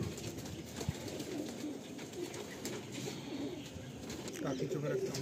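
Pigeons kept in a breeding loft coo softly and repeatedly in low, throaty murmurs, close by, while a person talks over them.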